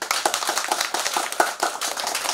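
Dense applause from a crowd at a political campaign rally in Manggarai, Indonesia, many hands clapping at once in a continuous loud patter that holds steady throughout.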